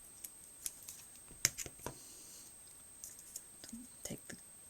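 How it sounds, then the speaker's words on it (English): Small scissors snip through thin 1/8-inch foam in a quiet room, a handful of short, crisp clicks scattered irregularly and close by, with a faint electrical whine underneath. "And my little scissors, because we only need little pieces here"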